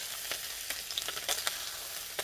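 Mustard seeds, lentils and curry leaves frying in hot oil for a mango and sweet potato chutney tempering, a steady soft sizzle with scattered crisp pops and crackles, no talking.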